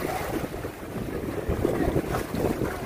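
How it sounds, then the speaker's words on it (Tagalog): Sea waves wash and churn under steady wind buffeting the microphone, a continuous loud rushing with surging swells. "ang ganda ng alon"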